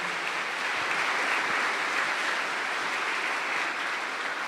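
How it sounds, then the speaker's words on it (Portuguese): Dense, steady applause from a church congregation during a Mass homily, continuous and evenly loud throughout with no voices standing out. "Então, uma salva de palmas para as crianças,"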